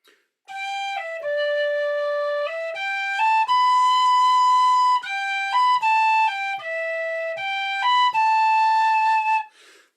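A whistle plays the tune Margret's Waltz, with clear, pure sustained notes stepping up and down in a slow, even melody, close and solo with short breaks between phrases.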